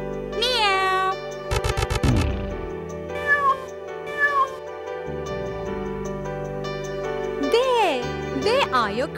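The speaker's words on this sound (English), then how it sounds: "Cat, say meow." A cartoon cat meows several times, the high wavering cries clear and close, mixed with bright musical tones and a voice.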